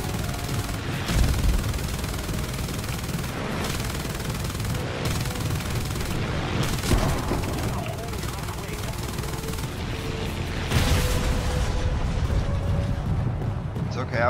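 Gunfire and explosions from a War Thunder air battle keep up a steady rattle with deep booms under the drone of engines, while someone talks over the action.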